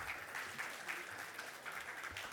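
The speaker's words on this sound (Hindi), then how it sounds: "ज़ोरदार तालियां हो जाए" Audience clapping at a music album launch event, a brief burst of steady applause with a few sharper claps standing out, moderately loud and without talk.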